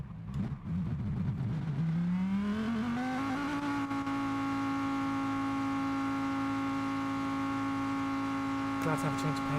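A Ford Mustang Gr4 race car in Gran Turismo Sport, racing from a reverse grid, revs up sharply over the first few seconds, then holds a loud, steady, buzzing engine drone close by.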